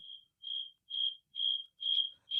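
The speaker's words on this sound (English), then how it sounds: "Just like the crickets in here, we need to sound cricket sound." Crickets chirp in a steady rhythm, five or six pulsing bursts of high trilling separated by brief silences, clear and isolated.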